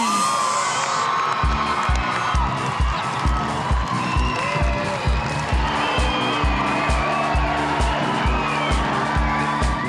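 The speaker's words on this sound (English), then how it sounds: "the crowd was just roaring, and the atmosphere was outstanding. There were a lot of screaming fans" A roaring studio crowd cheers and screams loudly and continuously for contestants arriving on skates at a Beauty and the Geek Australia stage show, over a steady rhythmic thumping music beat.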